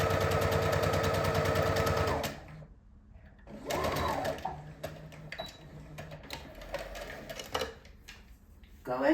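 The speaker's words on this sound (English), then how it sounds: "just sew down about 1 inch width away. Back tack, and then sew straight down." Sewing machine stitching down a pencil skirt waistband, a fast rattling run of stitches for about two seconds, a pause, then shorter bursts and clicks close by.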